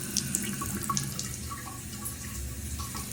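Water runs steadily from the supply into an RCA washing machine, a soft continuous splashing hiss with faint drips, close and fairly quiet with no talk.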